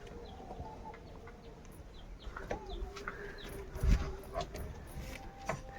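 Pet doves give soft, intermittent calls with a few faint chirps and a brief thump midway, set against quiet background ambience.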